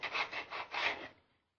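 Inside a hole in a model rocket part, sandpaper rasps in four or five quick back-and-forth strokes, close and fairly quiet, then the scraping fades out.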